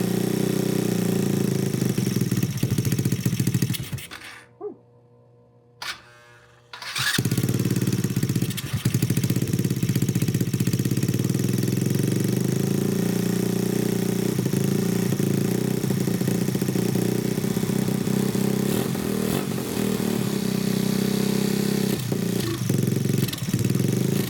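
A Grom clone motorcycle engine runs on its first start after valve adjustments, a steady mid-pitched idle with light clatter, briefly cutting out near the start before catching again and settling into a constant close drone.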